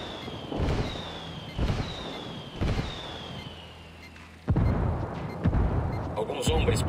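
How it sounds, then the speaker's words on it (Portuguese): Indirect-fire explosions in the Ghost Recon video game: three descending whistles, each ending in a booming impact about a second apart, then a louder blast with crackling debris and rumble. Voices talk faintly in the background. "Alguns homens próximos ouviram a explosão."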